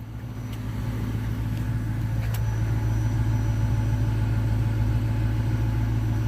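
The exhaust of a 1999 Mercury Grand Marquis rumbles steadily at idle, close by, a low even drone with a couple of faint clicks early on.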